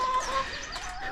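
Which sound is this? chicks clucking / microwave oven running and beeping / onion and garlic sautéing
chicks clucking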